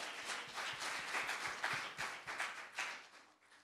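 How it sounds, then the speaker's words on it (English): Applause at a kindergarten graduation ceremony: a crowd claps steadily for a few seconds, loosely rhythmic, at a moderate distance, then fades out. "I think they deserve a round of applause."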